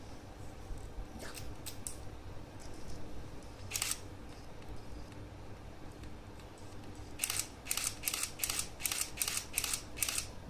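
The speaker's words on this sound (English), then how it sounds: "That's how fast the shutter moves when you put it at the high shutter speed." A digital camera shutter set to 1/4000 second fires in a rapid burst of sharp mechanical clicks near the end, with a few isolated clicks earlier over quiet room tone.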